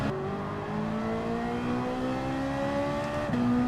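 Race car engine in Gran Turismo 7 daily races, revving loud and close with a steadily rising pitch, then a sharp drop and climb at a gear shift.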